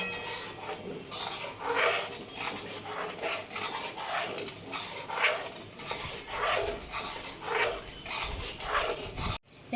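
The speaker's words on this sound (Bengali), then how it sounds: "সর যাতে না পড়ে দুধটাকে ওই জন্য বারবার নাড়বো।" A spoon scrapes and stirs milk boiling in a pot over and over, making steady rasping metallic strokes up close with no voices, cut off abruptly at the very end.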